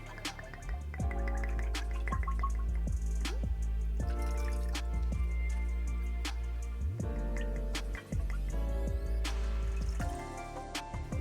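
Sixty millilitres of chilled amaro pour into a glass over ice for a coffee cocktail, a run of close trickles, drips and clinks with bright, ringing splashes and no talking.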